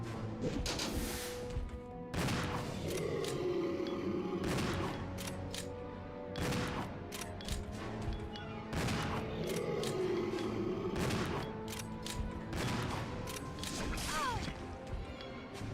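Shotgun blasts in Resident Evil 0 boom out roughly every two seconds, about eight loud, sharp reports in a steady rhythm over a low game soundtrack.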